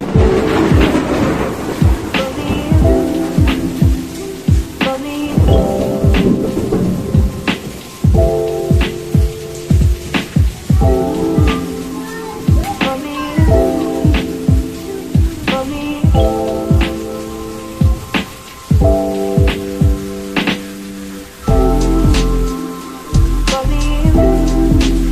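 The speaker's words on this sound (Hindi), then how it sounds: "आज बारिश काफ़ी जोरदार हो रही है" Heavy rain pours steadily on a village during a thunderstorm, with repeated loud cracks and rumbles of thunder punctuating the downpour throughout.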